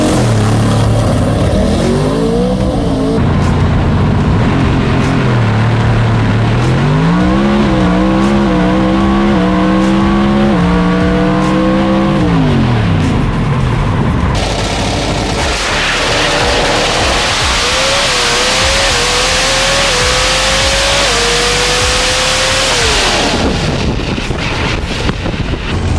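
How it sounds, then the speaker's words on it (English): 2022 NHRA Mountain Motor Pro Stock drag race cars at Brainerd International Raceway, loud engines climbing through rising and falling revs, then a second car screaming off the line, all under heavy wind buffeting. "we're gonna get ready to go up for first round of 2022 Mountain Motor Pro Stock, Brainerd International Raceway"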